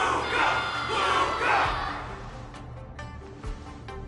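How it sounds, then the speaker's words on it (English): A large crowd cheers loudly at a wardance ceremony in the video game Honkai Star Rail, a dense roar for about two seconds that then thins to scattered softer sounds. "Can't you hear? Everyone's cheering for you, Luca!"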